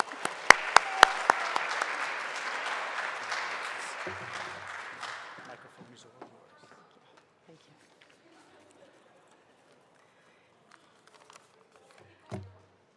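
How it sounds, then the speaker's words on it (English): Audience applause for an undefeated girls field hockey team at a school board of education meeting, a few seconds of loud clapping with sharp individual claps, fading out into quiet room noise. "So let's hear another big round of applause."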